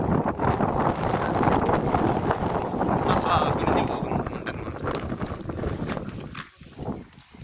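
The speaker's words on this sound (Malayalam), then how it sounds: "ഭയങ്കര കാറ്റ് തന്നെ, ഒന്നും പറയാൻ പറ്റില്ല." Strong, cold wind roars across the misty hilltop at Ponmudi, a continuous heavy rush that buffets the microphone and eases briefly near the end, with voices faintly audible beneath it.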